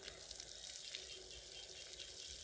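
Water pours steadily onto a young mulberry plant, making a continuous close splashing gush that runs unbroken from start to finish with no voices.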